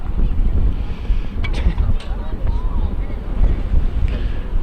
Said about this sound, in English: wind is getting noticeably stronger